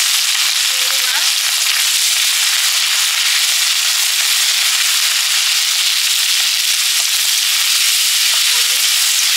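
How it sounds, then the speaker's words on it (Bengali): Prawns frying in hot oil give a steady, loud, close hiss and sizzle that runs unbroken from start to finish, with a couple of faint clinks of utensils. "চিংড়ি মাছ ভাজা হয়ে গেছে"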